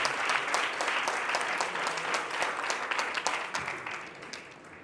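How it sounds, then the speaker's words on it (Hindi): Wedding guests at a Christian nikah ceremony break into sustained applause, a dense wash of many hands clapping close by that holds steady throughout and tapers slightly toward the end. "प्लीज आप जोर से तालियां मार लीजिए।"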